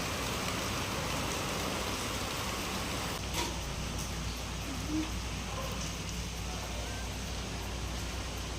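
Rain falls steadily outdoors, a dense, even hiss of drops on surfaces that stays constant throughout, with a few faint knocks and distant background sounds.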